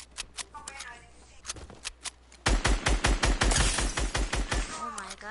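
Gunfire in a duos shooter game, sparse shots at first, then a dense rapid burst of loud shots from about halfway, with a shotgun in use and voices talking over it.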